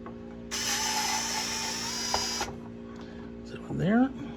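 A ratchet tool winds out screws from the back plate of a Favero fencing cord circuit board, a sustained rapid clicking burst lasting about two seconds, followed by someone speaking.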